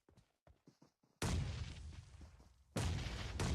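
Grenade blasts and gunfire in the battle-royale game PUBG Mobile at a competitive match: a few faint sharp shots, then two loud, sustained explosive bursts with rumbling booms and crackling fire, each breaking in suddenly.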